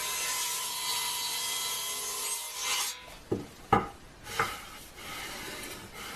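A table saw blade rips wood stock held against the fence with a feather board, giving a steady broadband cutting hiss for about three seconds, then a few sharp knocks and scrapes as the cut ends.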